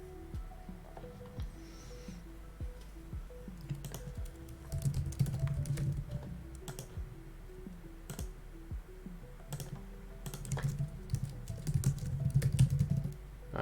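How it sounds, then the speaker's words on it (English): Typing on a computer keyboard, a rapid patter of close clicking keystrokes running in uneven bursts, with a low hum underneath and no talk. "I can hear myself typing and I hate it."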